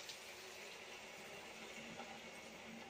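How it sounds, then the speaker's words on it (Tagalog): Water pours into a wok on a home stove, a faint, even splashing hiss that runs steadily and alone. "lagyan na natin ng tubig"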